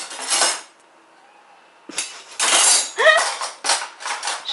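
Metal spoons clinking and rattling against each other while being picked through, a burst, a short pause, then several quick clattering handfuls, no talking.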